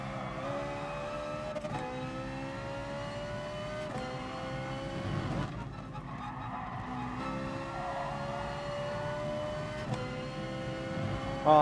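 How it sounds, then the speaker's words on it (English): A Ferrari 488 in GT Sport revs hard, its engine note climbing through gears with shifts and brief dips, loud and close, screaming upward again at the end. "this 488 feels pretty decent. Oh, listen to it rev. I love a car that just sounds like it's screaming."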